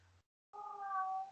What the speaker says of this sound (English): The first meow sounded like somebody saying hi in a high-pitched voice.